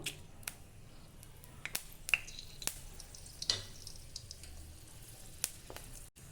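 Dried red chili frying in a small amount of hot oil in a wok, a quiet, low sizzle broken by scattered sharp pops and crackles across the clip.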